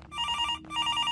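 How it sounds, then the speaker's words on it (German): Telephone in the indie horror video game Graveyard Shift rings in two bursts of bright, rapid trilling bell tones with a brief gap between, loud and close with no voice. "Telefon? Oh. Jemand ruft uns an?"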